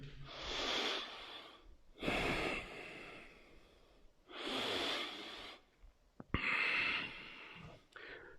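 In a standing-pose yoga class, someone breathes deeply in four slow, even cycles, each a close, airy rush of breath separated by brief quiet gaps.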